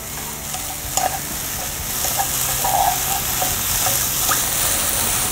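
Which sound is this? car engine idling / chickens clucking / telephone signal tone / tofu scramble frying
tofu scramble frying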